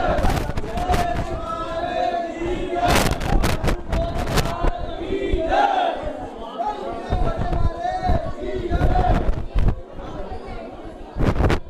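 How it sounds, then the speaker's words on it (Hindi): Devotees at the Goga Ji Maharaj fair at Dadrewa Dham raise praise chants amid a dense, noisy crowd, with loud bursts of voices, sharp cracks and constant chatter throughout. "जयकारे किए जा रहे हैं सब।"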